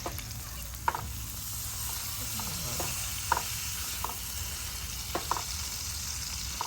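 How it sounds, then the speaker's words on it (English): Steak sizzling and frying steadily in a hot pan after being turned, a constant close hiss with occasional pops and scraping stirs. "Take our steak, turn it over."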